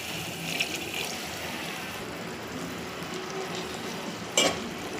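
Bottle gourd and tomato curry simmering in a pan just after water is added, a steady low bubbling sizzle with a brief clink near the end, no voices.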